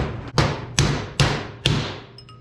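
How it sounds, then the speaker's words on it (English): Hammer blows on a punch drive the bearing race out of a tractor wheel hub: four sharp, evenly spaced metallic strikes, close and loud, each with a short ringing decay and nobody speaking. "You can just pound it out."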